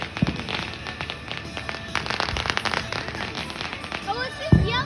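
A yellow smoke bomb firework goes off outdoors with a dense run of crackling pops and fizzing bursts lasting several seconds, loud and close, while people talk and react over it.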